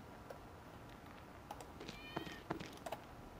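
A cat in the role-playing game Icewind Dale 2 lets out faint, short meows, several scattered through the latter half over a quiet, hissy background.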